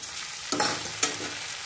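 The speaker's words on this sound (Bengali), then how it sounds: "আদা রসুনটা ভেজে নিয়ে একটু জল দেব" Ginger garlic paste fries in a pan with a steady sizzle, broken by two sharp stirring scrapes, close and fairly loud, with no talking.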